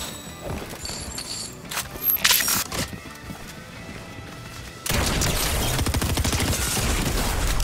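Gunfire in the Fortnite battle royale, with scattered shots early on and then a dense, sustained burst of rapid fire that dominates the second half, loud and close.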